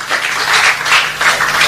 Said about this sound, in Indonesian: Tepuk tangan dong buat Tuhan.